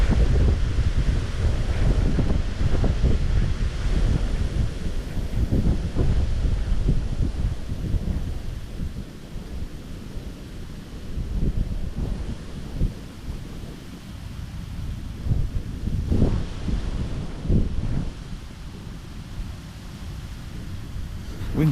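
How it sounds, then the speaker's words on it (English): Strong wind blowing along the bank of the River Thames during a fishing match, a loud rumbling buffet that gusts and eases continuously, buffeting close to the microphone with no clear talk. "Wind is certainly getting up."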